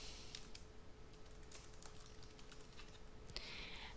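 Typing on a computer keyboard in Microsoft Word 2010, a steady run of quick, light key clicks over a faint hum, with a slightly louder tap near the end.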